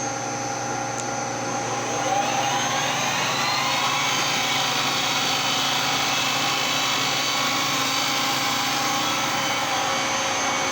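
A machine tool spinning at its maximum 1500 RPM with a 4.5 inches-per-minute feed makes its first cut: a loud, steady whine that swells and rises in pitch after a couple of seconds, then holds evenly.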